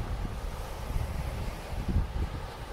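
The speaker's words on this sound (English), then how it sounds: "The wind is coming up" Wind blowing at a surf beach in Japan, a steady low rumbling roar mixed with distant breaking waves, continuous and fairly faint.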